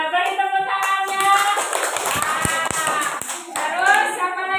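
A classroom audience of students claps together in brisk, steady clapping at close range, mixed with overlapping young voices calling out throughout.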